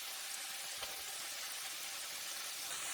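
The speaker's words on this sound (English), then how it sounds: "even the frying of bacon sounds like applause" Turkey bacon frying in a pan gives a steady, faint, crackling sizzle with tiny pops throughout and no voices.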